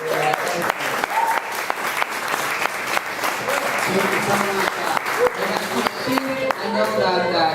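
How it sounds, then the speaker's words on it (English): Sustained audience applause at a DC community meeting with councilmembers, dense steady clapping from a roomful of people lasting throughout, with some voices mixed in. "Can we have a round of applause for you?"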